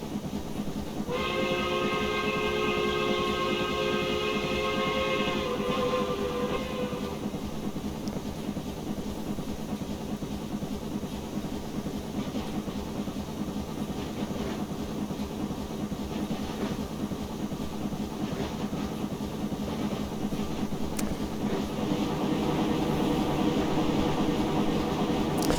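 Steam locomotive GN Brooks 4-8-0 in Train Simulator Classic running steadily at full throttle, a continuous loud rumble and chuffing with rail clatter, a sustained whistle tone early on, no talk.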